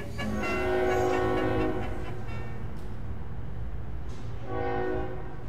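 A train rumbles along the railroad with a steady low roar while its horn sounds in long, loud sustained blasts, fading briefly and then returning near the end.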